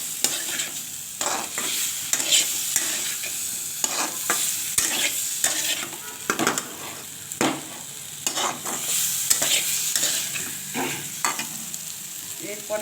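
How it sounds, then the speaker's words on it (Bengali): Eggs and potatoes sauté in spices in a pan for a coconut milk and cumin curry, with a steady sizzle under repeated scraping stirs of a spatula close by, and no talking. "তো এবার আমি ডিম আর আলুটা একসঙ্গে দিয়ে দিচ্ছি। এই মশলাটার সঙ্গে আমি কষিয়ে নেব।"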